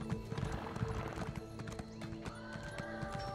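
Hooves clip-clop at a stable in the video game The Elder Scrolls Online, with a horse neighing and whinnying over the steady, close footfalls.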